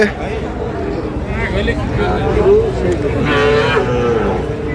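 Sahiwal cattle low at a busy rural cattle market, a couple of drawn-out moos rising out of the background of crowd noise and voices nearby.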